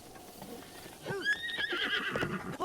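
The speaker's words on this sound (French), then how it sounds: "c'est un meilleur cheval. Vous voyez, lui, il a fallu que je le calme." A horse in Zelda: Breath of the Wild whinnies loudly, a rising-then-falling neigh over faint clip-clop hooves and soft game ambience, continuing for a couple of seconds.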